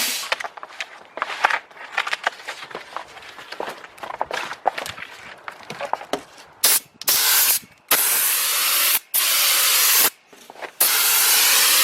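A sprayer hisses in loud bursts during a quick spray test. Softer scattered rubbing and shuffling come first, then several long, steady sprays separated by short pauses.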